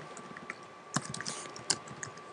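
A name typed on a Mac computer keyboard, a quick irregular run of light close key clicks with a few sharper taps, alone and fairly quiet.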